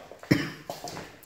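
A single close cough bursts out, followed by a couple of softer breathy throat sounds in a quiet house interior.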